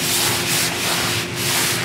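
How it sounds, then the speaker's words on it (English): Kitchen knife drawn along a rapid steel for sharpening before trimming a brisket, a close, loud, even rasping scrape in long continuous strokes. "you can sharpen your knife. I use a rapid steel."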